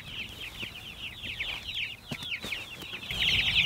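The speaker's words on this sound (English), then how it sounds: "there's just chickens in my living room" Several backyard chickens cluck and chatter close by indoors in a living room, a busy overlapping stream of short clucks with occasional scuffling and soft rustles.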